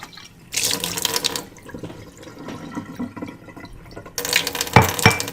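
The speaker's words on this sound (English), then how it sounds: "I'm going to dump this out and put some of the magic water in there" Water poured from a container into a glass at close range, with a splashing, bubbling stream in two separate bursts and a quieter gap between them.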